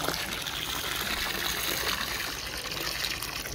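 Water from a bucket pours into an aquarium, a steady close gush and splash with no break.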